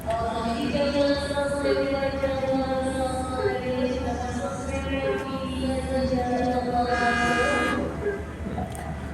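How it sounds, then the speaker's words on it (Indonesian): The Senja Utama Solo passenger train rumbles steadily into a station platform while a horn-like tone sounds at intervals above it, loud and close, with no talking. "Jalur 1 masuk kereta api Senja Utama Solo"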